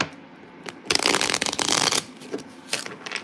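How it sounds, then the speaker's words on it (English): Tarot cards are shuffled by hand in a quick, riffling rush of papery slaps that is loudest for about a second. Softer shuffling flutters follow close by with no talk. "All right, one more shuffle."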